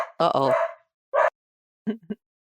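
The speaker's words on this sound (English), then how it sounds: "I like the dog. Barking." A dog barks nearby in three short bursts: a longer, fuller bark first, then a quick single yap, then two small clipped yips, separated by silence.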